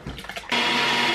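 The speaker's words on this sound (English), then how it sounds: "And then it's going in the blender." A kitchen blender starts up on carrots, broccoli, zucchini, pumpkin and a bouillon cube for vegetable soup, a brief clatter before the motor jumps to a loud, steady whirring roar.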